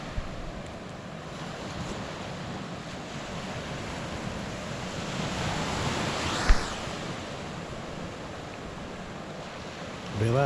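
Steady broadband rush of ocean surf on a Guam shoreline at night during fishing, with wind buffeting the microphone throughout and a brief bump near the end.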